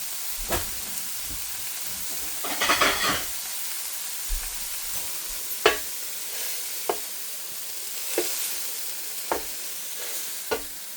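Potatoes and onion sizzle in a skillet with a quiet, steady hiss. Sharp spatula scrapes and clinks punctuate it at intervals, and a short burst of louder crackling stirring comes early on. The sound is close and there is no speech.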